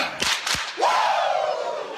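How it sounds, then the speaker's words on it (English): Two sharp claps from a crowd at a Black Bears hockey show, followed by a drawn-out rising then sustained 'woo' yell in Ric Flair style, loud and close over crowd noise. "Give me 2 claps and a Ric Flair"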